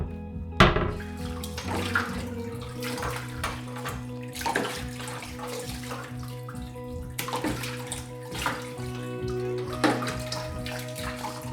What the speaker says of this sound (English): Oh my god, running water.